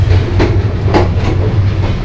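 Upaban Express train runs on rails, a loud, continuous low rumble inside the carriage with a few soft rhythmic clacks from the wheels, no voices.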